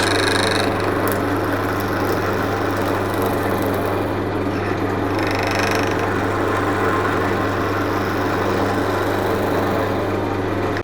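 A skew chisel cuts wood on a spinning lathe: a steady, close motor hum runs under a continuous rough hiss of the cut for the whole stretch, with no talking.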